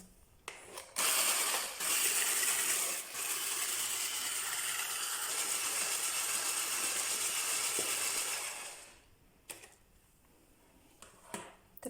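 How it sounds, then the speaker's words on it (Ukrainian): An electric mixer on medium speed whirs through pancake batter, a close, steady mechanical drone running for about eight seconds between brief clicks and knocks, then stopping and leaving a few scattered clatters. "І все збиваємо міксером на середній швидкості"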